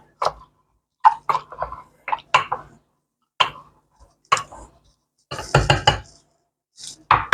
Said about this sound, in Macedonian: Згмечете лубеницата и лимонот во чашата.